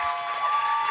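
A live comedy show audience in Rouyn-Noranda breaks into brief applause, a continuous wash of clapping heard at moderate volume over a steady background hum.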